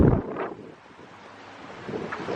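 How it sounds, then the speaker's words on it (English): Strong wind buffets the microphone outdoors near Gardens by the Bay in Singapore, a loud low rumbling burst at the start, then a steadier broadband rush that swells again toward the end. "not sure whether you can hear this because the wind is really strong"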